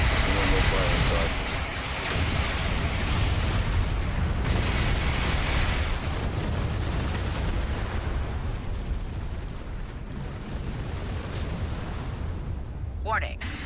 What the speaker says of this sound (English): Warning. Artillery incoming. Exit area.